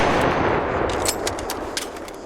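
Automatic gunfire in the game Bettina, a full magazine dumped in one sustained burst through a muzzle brake, rapid loud crackling shots running together without pause.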